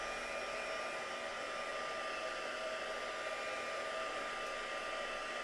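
Heat tool drying a mixed media craft piece, giving a continuous loud, even blowing whir that holds steady throughout with no voices.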